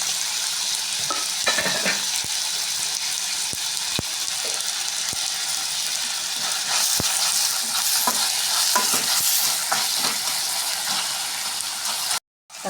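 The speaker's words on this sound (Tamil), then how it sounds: "தக்காளியும் நல்லா வதங்கிடுச்சு" Onions and tomatoes with salt sauté in a pan, making a continuous loud sizzle and hiss, with scattered scraping stirs and light utensil taps, before cutting off abruptly at the end.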